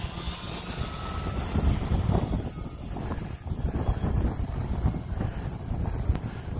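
A model airplane takes off from snow into the wind at about half throttle, its engine a steady buzz under heavy wind buffeting on the microphone, with no talking.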